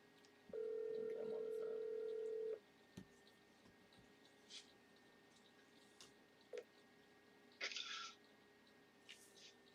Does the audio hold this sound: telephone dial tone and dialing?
yes